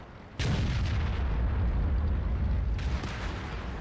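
Artillery fire in the tank game World of Tanks: a heavy, loud boom hits suddenly and rolls into a long rumbling tail, followed by a second sharper blast near the end; no talking.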